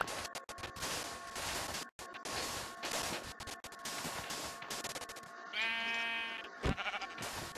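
Minecraft sheep bleat in a short quavering burst near the end, after a stretch of busy block-breaking and game noise.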